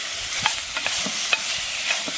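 Tomato thrown into a hot pot of frying sheep tails, a steady loud sizzle with a few sharp pops and stirring scrapes, close up and with no voices.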